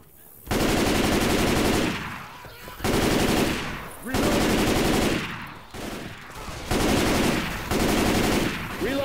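Gunfire from Left 4 Dead 2 in a zombie co-op game: loud, sustained automatic bursts of several seconds each, separated by short pauses, close and dominant with faint voices beneath.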